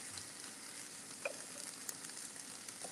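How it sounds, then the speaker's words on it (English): Steady, quiet sizzling of chicken thighs roasting on a sheet pan, a faint continuous crackle with a few small pops, no voices. "You can hear that sizzling."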